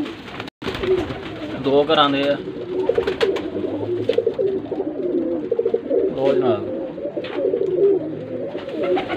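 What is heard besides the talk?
pigeons cooing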